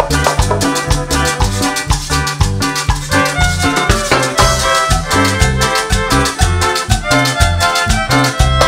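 Dense Latin band mix with violins over a driving bass and percussion beat in a medley, loud and continuous throughout, with no voices speaking.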